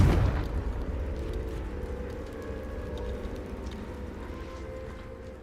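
A Confringo fire spell blast in Hogwarts Legacy, a sharp explosive burst at the start followed by a rumbling, crackling decay that slowly fades over several seconds.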